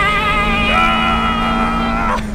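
A 4G15 Mitsubishi Lancer engine revs up close by, a loud harmonic tone sweeping steadily upward before easing off at the end, with no voices over it.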